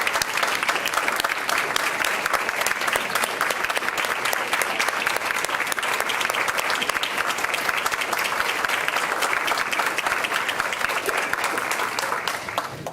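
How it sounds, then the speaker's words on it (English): Sustained applause from an audience at a school board meeting, a steady dense clapping that fills the room at even loudness for several seconds before tapering slightly at the end. "can we give all of our magnet schools, our scholarship-winning students, and our superintendent a round of applause again?"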